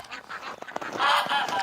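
Ducks kept through a cold winter give short honking quacks, several calls in quick succession and moderately close, louder toward the end.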